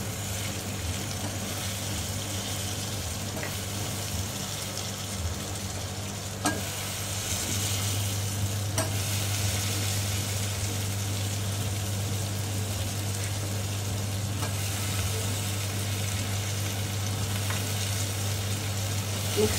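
Potatoes frying in a pan for a capsicum and potato sabzi, a steady moderate sizzle with occasional stirring clinks and a constant low hum beneath, no talk.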